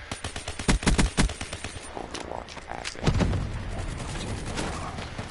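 Rapid bursts of HG 40 submachine gun fire in a video game crack out loud in the first second or so, then give way to scattered impacts and a dense rumbling wash of game noise.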